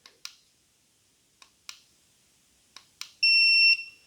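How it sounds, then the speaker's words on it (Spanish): A new SWR and RF power meter gives a short, loud electronic alarm beep after several sharp button clicks, heard up close with no talking. "vamos a poder activar o desactivar la alarma"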